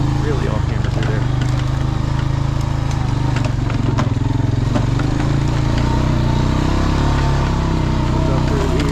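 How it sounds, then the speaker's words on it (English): A four-wheeler ATV engine drones continuously up close as it climbs an off-camber section of a dirt racetrack, a rough low rumble with scattered clatter. "Try to get the four-wheeler stuck"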